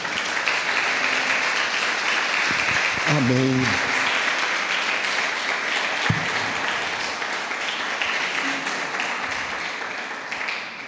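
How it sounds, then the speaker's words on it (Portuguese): A church congregation applauds loudly and continuously for about eleven seconds, a dense wash of clapping, while voices speak and call out over it. "Quantos podem aplaudir o Senhor? Faça isso."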